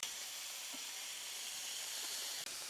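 Sausage patties frying in a pan until brown and crispy, a steady close sizzle and hiss that continues unbroken, with a few faint pops and no talking.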